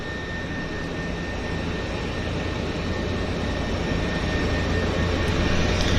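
Aircraft at the Vancouver Harbour floatplane base give off a steady, broadband engine roar that holds close and loud throughout, with no voices over it.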